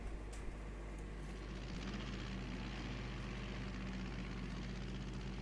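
Steady droning propeller aircraft engine in The 39 Steps video game, a continuous low rumble passing overhead at a constant level with no talking.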